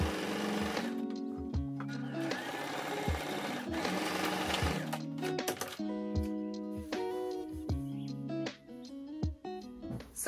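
Sewing machine stitching fabric pieces of a matching clothing set together, running in loud rapid bursts with brief pauses and pitch changes as the motor speeds up and slows, close up with no talking.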